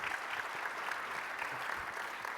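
Audience at a Verizon analytics presentation applauds, a steady faint patter of many hands clapping throughout the short stretch.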